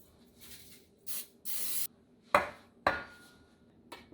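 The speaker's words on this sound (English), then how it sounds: "I need to coat my pans with nonstick cooking spray." Nonstick cooking spray is sprayed onto baking pans in a quiet kitchen: two short hissing bursts, then a couple of light metallic clanks as the pans are handled.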